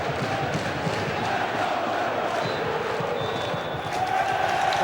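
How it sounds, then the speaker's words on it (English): A football crowd applauds and gives a standing ovation at half-time as Doncaster Rovers leave the pitch 3-0 up, a steady, dense roar of clapping and cheering that swells slightly near the end. "Their chairman leads the applause, the standing ovation for the players as they come off with a 3-0 lead."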